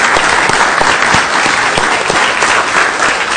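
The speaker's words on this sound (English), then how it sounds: "So give them a big round of applause." Dense, steady clapping from a large crowd fills the whole stretch, loud and sustained without letup.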